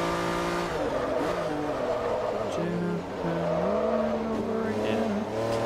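Race cars overtaking in the Forza Motorsport 3 video game at Sebring International Raceway: a continuous loud engine whine shifting pitch up and down through gear changes, with faint tire squeal and no talk.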